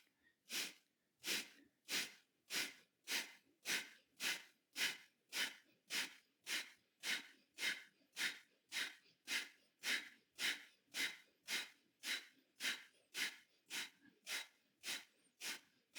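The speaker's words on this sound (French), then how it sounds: "maintenant commence la respiration en inspirant à moitié de la capacité et expire" Kapalabhati yoga breathing: about twenty-five rapid, forceful nasal exhalations in a steady even rhythm, close and clear against a quiet background.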